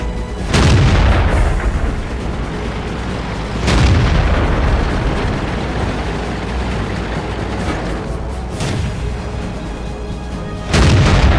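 Tank cannon shots in a tank combat video game, a VK 3601 firing: several deep, loud booms spaced a few seconds apart, each followed by a sustained rumbling roar of engine and battle noise.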